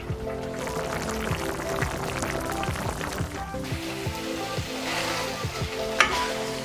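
Liver sizzles and bubbles steadily in a hot pan, with occasional soft stirring scrapes and one sharper clink near the end.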